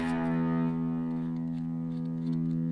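A Stratocaster electric guitar played through a JOYO Super Lead distortion pedal into a Mustang 3 amp sustains a fuzzy, harmonically dense note that fades slightly, with faint string noise and no talking.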